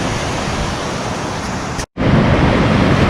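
Ocean surf at a surfing beach in Huatulco, Mexico, gives a loud, steady broadband wash, likely mixed with wind on the microphone, cut by a brief dropout to near silence before resuming.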